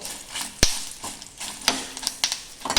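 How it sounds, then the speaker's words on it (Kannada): Garlic fries lightly in a pan for a potato dish, giving a soft, hissing sizzle broken by a sharp tap of a utensil and scattered stirring scrapes and clicks, close and fairly quiet. "ಒಂದಿಷ್ಟು ಬೆಳ್ಳುಳ್ಳಿನ ಹಾಕ್ತಿದ್ದೇನೆ ಇದು ತುಂಬ ಹುರಿಬೇಕು ಅಂತ ಇಲ್ಲ"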